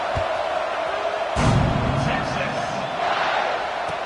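A football stadium crowd during a Texas game just after a touchdown, a dense roar of many voices with a swell of shouting partway through, sustained and fairly loud throughout.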